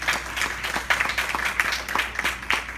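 Congregation applauding the king during a church sermon, a steady wash of many hands clapping at moderate volume throughout, with faint voices mixed in.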